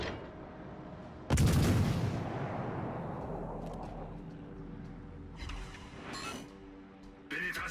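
A loud naval gun salvo from a French cruiser, the Emile Bertin, in World of Warships Legends, booming once and rumbling away, followed by fainter mechanical clanks and a later smaller report.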